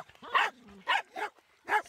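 A small dog barks a few times while playing in swampy, muddy water, the short sharp yelps spaced irregularly and close by.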